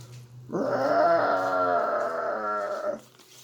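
A person reading a story imitates bears growling with a single sustained low, rumbling voiced growl lasting a few seconds, close and fairly loud, with no other sounds.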